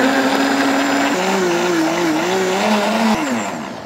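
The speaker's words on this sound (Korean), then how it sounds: "이렇게 해서 곱게 갈아주세요." A blender whirs loudly and steadily, its motor pitch rising and wavering as it finely grinds apple, onion and rice wine, then the whine drops away near the end.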